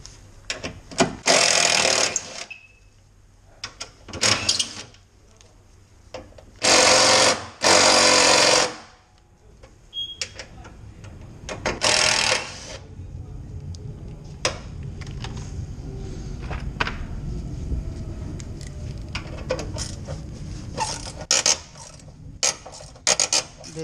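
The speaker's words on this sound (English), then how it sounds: "We're gonna have to unscrew them with a Torx 30 T30." A power driver fitted with a Torx T30 bit unscrews the front bumper screws on a Fiat 500, some of them rusty, in several loud whirring bursts separated by pauses, with a rattling, scraping stretch in the middle.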